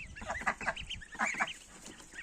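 Several geese honk in quick, overlapping bursts close by, a nasal chorus of short calls with no talking.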